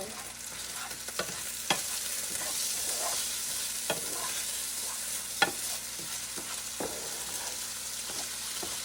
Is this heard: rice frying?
yes